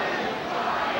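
Arena crowd at a TNA wrestling show roaring and cheering, a dense continuous wall of many voices filling the space without pause.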